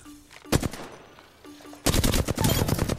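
Rapid automatic gunfire in the shooter game Apex Legends, one short burst followed by a longer sustained volley of loud, close shots.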